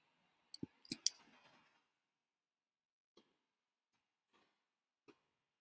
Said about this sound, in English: Just click on add input field.